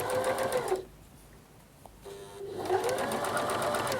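A sewing machine running a straight understitch along a dress facing seam, whirring steadily and close, then pausing for about a second before starting up again.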